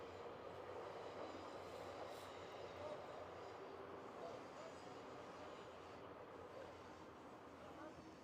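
A train rumbles past at a distance during an outdoor American football match, a broad steady roar that holds for several seconds under crowd and field noise.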